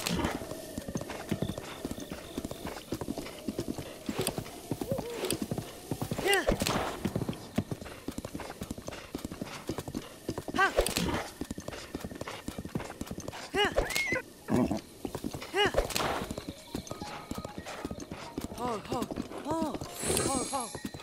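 A horse gallops in Zelda: Breath of the Wild, its rhythmic clip-clop hoofbeats running steadily through the whole stretch with occasional neighs, loud and close, while a player talks over it.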